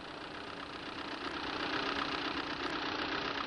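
Ferguson tractor engine from a farming game mod driving by, a steady broadband engine rumble that slowly swells in loudness as it nears.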